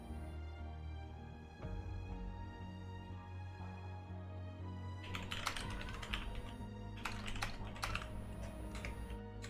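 Computer keyboard keys clatter in quick, irregular bursts, growing denser and louder after a few seconds, with a steady game-music bed underneath during a Halo Wars 2 tournament broadcast; no one speaks.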